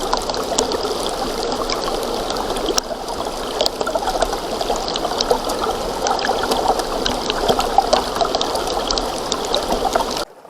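Floodwater from a hurricane-driven flash flood rushes steadily around a submerged trail camera, a continuous loud churning wash that holds for about ten seconds before cutting off abruptly.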